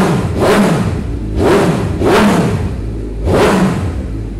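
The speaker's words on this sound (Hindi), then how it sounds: "जब किसी भी बाइक के ऊपर ब्रांडेड एग्जॉस्ट लगा होता है तो उस बाइक के अंदर क्वालिटी साउंड आपको मिलती है" A heavy motorcycle fitted with a branded exhaust revs hard three times in a row, each loud, deep, throaty blip rising and falling back to a rumbling idle, close by with no talking.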